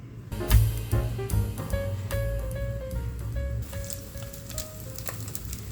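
Salmon fillet frying skin side down in a pan over medium heat, giving a steady, close sizzle with crackling spits and a few faint clinks, no talking.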